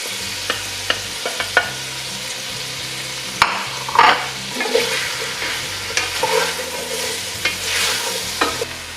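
Onions sizzling in a pan for a pork soft bone stir fry, a continuous fry hiss with repeated scraping and stirring clatter from a utensil, close up and without talk.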